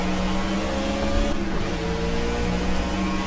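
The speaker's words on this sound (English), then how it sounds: "these cars definitely do sound really nice in comparison to some of the other cars" A Ford Fusion stock car engine in the racing game Project Cars holds a loud, steady, throaty roar with a slight shift in pitch partway through, and nobody speaks.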